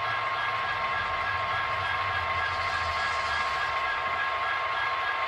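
Loud, steady rumble of idling SD70 diesel locomotives warming up, with a constant mechanical hum and whine, unbroken throughout.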